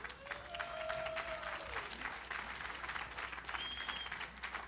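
A crowd applauds at the Konami E3 2010 press conference, a dense steady wash of clapping at moderate distance that holds evenly throughout, with faint tones over it.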